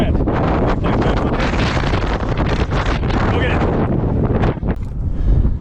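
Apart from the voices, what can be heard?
strong wind blowing into the microphone outdoors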